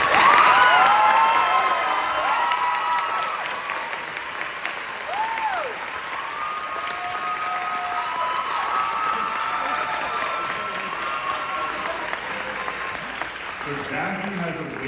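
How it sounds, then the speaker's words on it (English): A graduation audience at St John Lutheran School in Ocala applauds and cheers for the salutatorian, a dense, steady wash of clapping with whoops and shouts rising above it, strongest at the start and fading slightly. "Let's give a big round of applause for our salutatorian"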